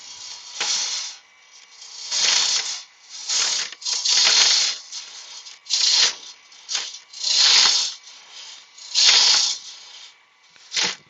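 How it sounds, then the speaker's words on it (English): A spindle roughing gouge cutting timber spinning on a wood lathe, coming in repeated loud hissing, rasping bursts about a second long with short quieter gaps between them. "So I'll continue using my spindle roughing gouge."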